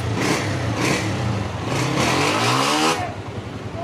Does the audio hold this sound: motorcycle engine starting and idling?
yes